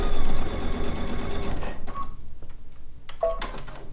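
A sewing machine stitches quilt pieces with a loud, steady mechanical whir that stops after about a second and a half, followed by quieter clicks and handling noises.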